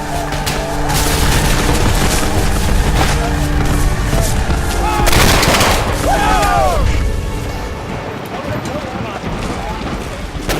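Rapid gunfire and booming cannon from a Civil War battle at Shiloh's Hornet's Nest form a dense, loud, continuous roar, with whizzing projectiles and a narrating voice over it.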